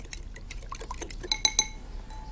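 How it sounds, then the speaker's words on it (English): Egg and milk being whisked together in a bowl, a quick run of light clinking taps of a metal whisk against the bowl's side, close and fairly quiet, ending in a faint ringing tone. "Give it a good old whisk."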